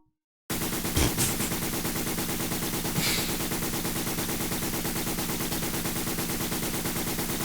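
Continuous rapid shooting in the PC-88 game Target Wave: a dense, unbroken stream of small repeated shot sounds starting abruptly after a moment of silence, with a couple of brief louder hits early on.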